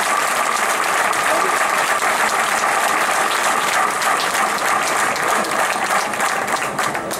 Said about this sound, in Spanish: Les vamos a dar un fuerte aplauso también a ellos